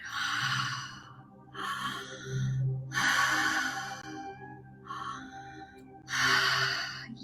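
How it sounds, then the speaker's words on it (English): Deep, slow breathing during a guided breathing exercise, several long audible inhales and relaxed airy exhales in a steady rhythm, close and clear with soft background hum. "So pulling in on the inhalation and relaxed exhale, bringing in that beautiful light."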